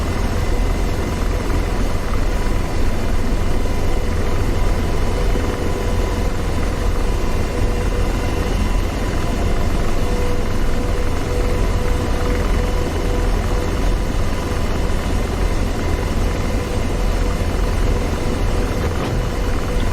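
A helicopter's rotor and engine drone steadily in DCS World, a constant dense whine and low throbbing hum running unbroken throughout.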